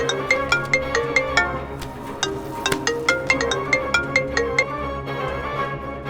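A phone ringtone plays a repeating melodic tune with steady rhythmic pulses, loud and close, as a call is placed, with no talking over it.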